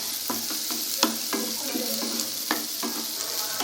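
Masala with tomato and rock salt sizzles in a pan as it is stirred and mixed, with a spoon tapping and scraping the pan in an irregular rhythm over the steady frying.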